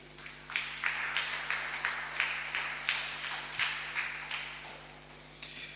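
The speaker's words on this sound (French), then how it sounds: "Une acclamation pour notre Dieu." A church congregation claps in acclamation during a Sunday service, steady rhythmic hand-claps about twice a second over a low constant electrical hum, without speech.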